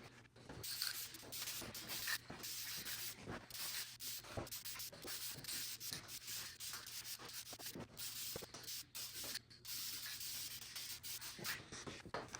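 A rattle-can spray paint coat goes on a Silverado SS as a steady, faint airy hiss with small breaks and light rubbing and ticking underneath, constant for the whole stretch.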